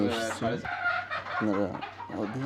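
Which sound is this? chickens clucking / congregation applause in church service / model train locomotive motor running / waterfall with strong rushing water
chickens clucking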